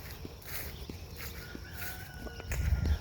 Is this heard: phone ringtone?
no